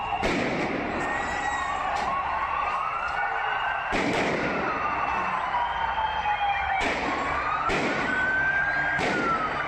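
Firecrackers thrown during a street protest in Bulgaria: several sharp loud bangs at irregular intervals amid a noisy crowd, with a whistling, wailing tone rising and falling between the blasts.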